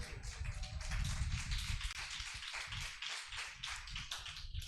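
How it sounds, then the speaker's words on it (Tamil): A church congregation claps hands together during a Tamil sermon, a steady run of soft, fairly even claps heard from a little distance for a few seconds. "கையை தட்டுவோமே ஆண்டவருக்கு."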